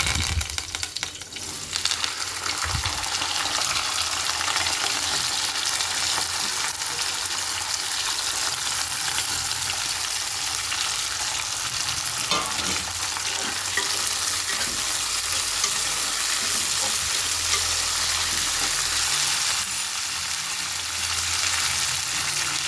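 Sliced ivy gourd (dondakaya) fries with curry leaves in a pan, giving a dense, even sizzle for the whole stretch, broken by occasional scrapes of stirring, close and with no voices.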